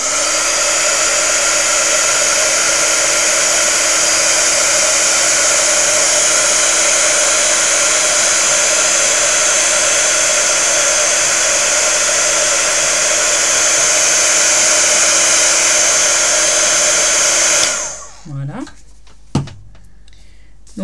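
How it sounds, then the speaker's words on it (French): A heat gun blows loudly and steadily for a long stretch while melting sticky embossing powder, a constant close whooshing drone that cuts off abruptly near the end, followed by small handling knocks. "je prends mon pistolet chauffant et je viens donc chauffer ma poudre à embosser collante"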